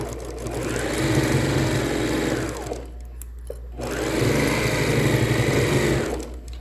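A sewing machine stitches a chemo port pillow for a car seatbelt, running in two steady whirring bursts with a short pause between, close and loud with no talking.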